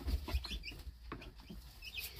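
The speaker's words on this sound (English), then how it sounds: "But here comes the big rooster." A big rooster among chickens clucks in a few short, close bursts near the start, with softer bird sounds and scuffling through the rest.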